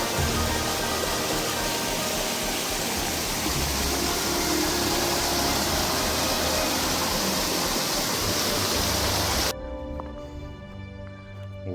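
Water rushes steadily at a small hidden spot at a pinch point in dense mountain forest, loud and continuous broadband flow that cuts off abruptly near the end to a quieter background.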